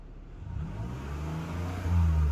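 A car's engine rises in a low, steady hum as the vehicle begins rolling, growing slightly louder and fuller near the end, with no one talking.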